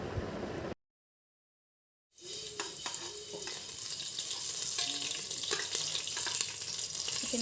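Onions sizzle and fry in hot refined oil in a pan, a steady crackling hiss that builds after a brief silence and carries on loud and continuous, with some scraping and stirring. No one speaks.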